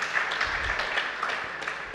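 Audience at a Jain religious discourse by Vishudh Sagar Ji Maharaj applauding, a moderately faint, dense patter of many hands clapping continuously for a couple of seconds.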